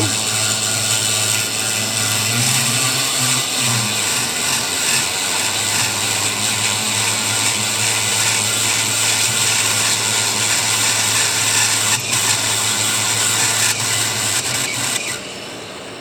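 A power sander works a pycnodont fossil, whining steadily at close range, a bright sustained buzz with a low hum beneath, cutting off near the end.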